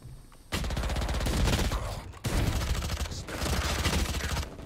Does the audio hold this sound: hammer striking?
no